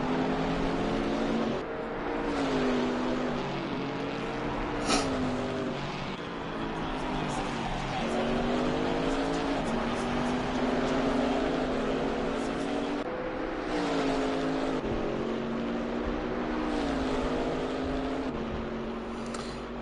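Race car engine on a flying lap in Assetto Corsa Competizione, a steady loud drone rising and falling with gear changes down the back straight, with a commentator talking over it throughout.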